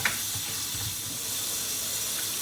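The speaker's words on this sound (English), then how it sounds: "So we're gonna add some cold water." Cold tap water runs steadily into a dish of beef being washed with apple cider vinegar, a close, constant rushing hiss with no talk.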